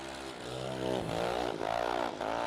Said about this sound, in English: Working that throttle pedal a bunch.